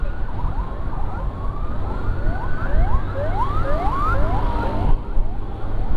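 An ambulance siren wails continuously during a motorcycle escort, with a rising and falling yelp over heavy road and engine rumble from a crowd of following motorbikes. It is loud and close throughout, with no talking.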